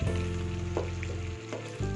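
Curry leaves and green chillies hiss and sizzle in hot oil in a pan, a dense steady frying crackle with a brief dip near the end as they are stirred, close and loud, with no voices.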